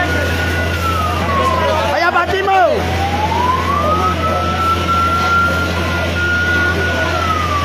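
A fire truck siren wails and rises over steady traffic rumble as it arrives at a fire in Barangay Commonwealth, Quezon City, with a brief burst of voices and noise partway through.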